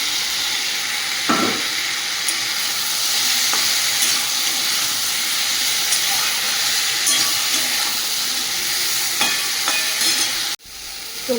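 Pre-fried okra sizzles loudly in a pan with a dense steady hiss, punctuated by a few spatula scrapes and knocks, nearby and without talking, then a sudden brief drop near the end.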